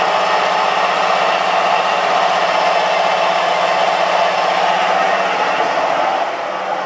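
Main spindle of a milling machine starting up and running, a steady, loud mechanical hum and whine with a constant tone that holds evenly throughout, close by and with no speech.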